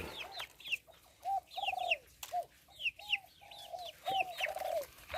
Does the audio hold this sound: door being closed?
no